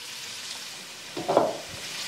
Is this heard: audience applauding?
no